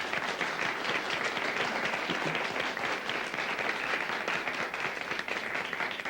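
An audience applauds a guest, a dense, even wash of clapping that stays steady and moderately distant for several seconds with no voices over it.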